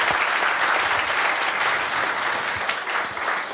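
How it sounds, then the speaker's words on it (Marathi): Steady, dense applause from an audience honouring an Indian bronze medallist, loud and continuous throughout with no speech over it. "तर यासाठी खरं तर सर्वप्रथम टाळ्या झाल्या पाहिजेत."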